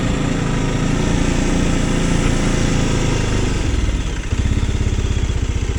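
An Arctic Cat Alterra 600 ATV with a 45 horsepower engine idles slightly high, a loud, steady, close-up chugging rumble that dips briefly near the end before settling into an even pulsing beat.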